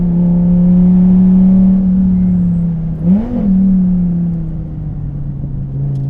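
A DSC Sport tuned Dodge Viper TA drives on a drying race track, its engine a steady loud droning hum with a brief rev blip midway before settling back to a constant onboard rumble.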